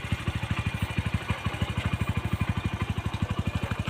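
A motorcycle engine idles close by with a steady, rapid low-pitched putter of even firing pulses, running continuously with no talk over it.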